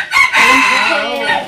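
A rooster gives one close, loud crow that rises sharply then holds and trails off, heard alone.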